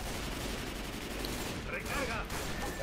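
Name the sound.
gunfire in video game Left 4 Dead 2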